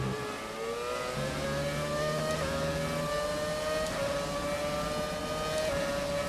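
Engine of an F1 race car in the F1 2017 racing video game, a steady high-pitched whine holding near constant revs with slight pitch shifts, loud and continuous with no talking.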